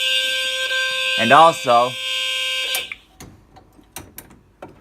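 Fire alarm horns from two different brands sound together as a loud, steady, piercing tone while someone talks over them. The tone cuts off after about three seconds, leaving faint clicks and taps.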